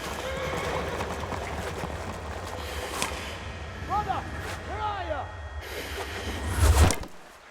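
Horse neighing and clip-clop hooves in the medieval video game Kingdom Come: Deliverance on a river bank, with whinnies around the four- and five-second marks over a steady rumbling background and voices.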